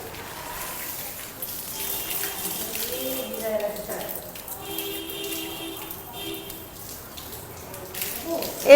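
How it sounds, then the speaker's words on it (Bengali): Water runs from a tap while something dirty is washed, a moderate gushing splash under faint talking and other household sounds, ending with a sharper knock. "তাই আমি ধুয়ে দিচ্ছি।"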